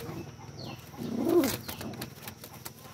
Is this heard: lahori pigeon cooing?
yes